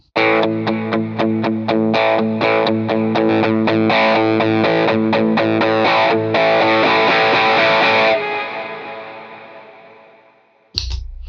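An electric guitar through an octave effect pedal plays a quick run of thick, doubled notes with an effects-laden tone, then a final chord rings out and fades before a short pluck.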